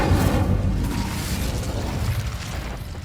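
A fiery burst from the Incendio fire spell in Hogwarts Legacy, a loud whooshing roar with a low booming body that stays dense and slowly fades over a few seconds, alone without talking.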